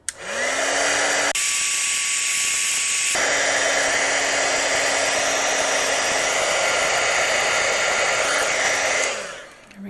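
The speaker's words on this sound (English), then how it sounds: "I'm going to take my heat tool and set this." An electric heat tool blows loudly and steadily close by while setting heat-embossing powder on a handmade card, a constant rushing hiss with a tonal whine that shifts pitch partway through, with no speech.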